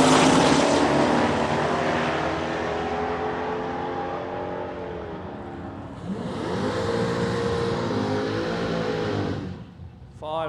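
A 1932 coupe and a Mustang launch down the strip at a road trip drag race, loud engines roaring and revving away, then a second rising howl of acceleration before the noise cuts out near the end.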